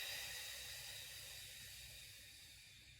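A slow, steady breath out during an abdominal breathing exercise, a soft airy hiss close to the listener that gradually fades over a few seconds.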